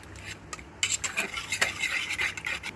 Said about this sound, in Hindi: हरी मिर्च, धनिया, पुदीना, प्याज, दही, नमक अच्छी तरीके से मिक्स करें।